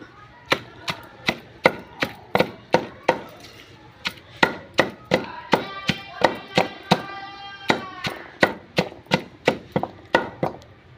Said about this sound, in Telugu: ఇదిగోండి వంకాయ ముక్కలు కోసాను.